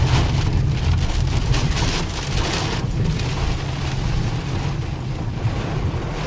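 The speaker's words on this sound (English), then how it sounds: "It's extremely windy and just rain everywhere." Heavy storm rain pounds steadily on a car in strong wind, a dense, continuous roar with low rumble throughout and no pauses.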